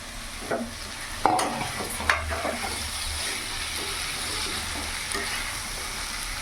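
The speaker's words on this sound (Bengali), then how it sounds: "ভালো করে মশলার সাথে মিশিয়ে নেবো এইভাবে।" Fried cauliflower and potatoes with peas being stirred into spices in a hot pan, giving steady sizzling with several sharp scrapes of a spoon against the pan, close and fairly loud, with no talk.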